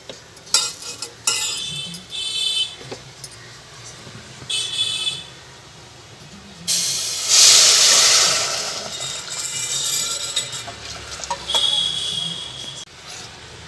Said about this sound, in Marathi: आता आपण त्यात दूध घालून घेऊ